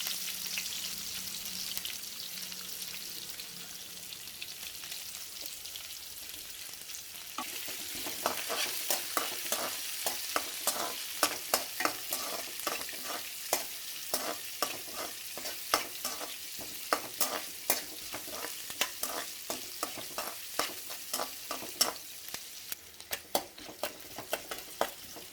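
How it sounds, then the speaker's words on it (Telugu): Onions and green chillies fry in hot oil with a pinch of salt for talimpu rice, a steady close sizzle joined midway by brisk, repeated stirring scrapes and clicks against the pan. "ఆనియన్స్, పచ్చిమిర్చి కట్ చేసుకొని వేసుకోవాలండి. తొందరగా వేగాలంటే కొద్దిగా లైట్గా సాల్ట్ వేసుకోవాలండి."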